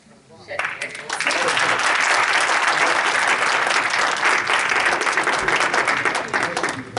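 Steady, full applause from an audience at an Urdu literary tribute gathering, building after a short start and holding loud and dense to the end, with faint voices mixed in.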